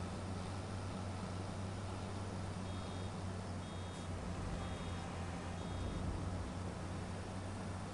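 A vehicle in Farming Simulator 25 reverses, giving four faint, evenly spaced beeps over a loud, steady engine drone and baler hum.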